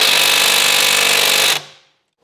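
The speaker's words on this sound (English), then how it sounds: "I'm gonna try and use the gun to try and turn it" Pneumatic impact gun hammering on a stubborn bolt of a VW Tiguan during front spring and shock absorber removal, one loud continuous rattling burst of about one and a half seconds that cuts off abruptly.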